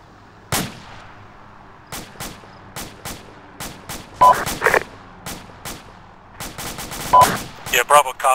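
Mortar rounds and gunfire in the combat game Arma 2: a string of sharp separate shots and bursts with booming impacts, some near and some distant, spaced irregularly with short clustered volleys.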